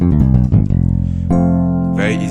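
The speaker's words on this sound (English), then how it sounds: "Let's say, for example, you're splitting your keyboard right away." A keyboard plays a short run of notes, then sustained layered chords that swell, with a brighter tone entering near the end; no voices.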